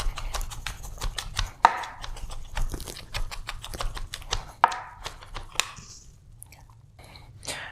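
Garlic is minced for a marinade in one quick run of chopping, giving a fast series of crisp, crunchy chops close by that taper off toward the end, with no talking.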